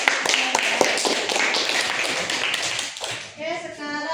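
A classroom of students claps hands together in a burst of quick, rough applause that fades out near the end, with children's voices chattering over it.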